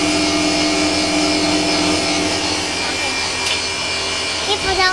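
A REXON oil filter machine with regeneration runs steadily with its vacuum adjust valve opened, giving a loud, continuous mechanical hum and whir with a faint hissing layer, unchanging throughout.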